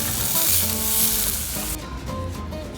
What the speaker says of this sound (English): Gently poach the scallops.